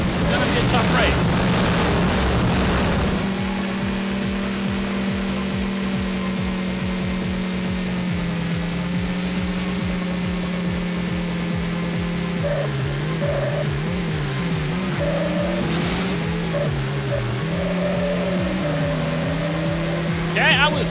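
Race cars in the arcade racing game Screamer 2 drone constantly with engine notes that rise and fall as they shift, while a person talks over the game audio.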